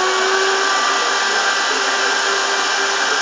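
An electric vacuum cleaner, switched on with a TV remote, runs at a steady, loud, high-pitched whine and roar with no change in pitch or level throughout.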